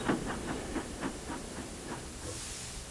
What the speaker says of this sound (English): just as Thomas chuffed in.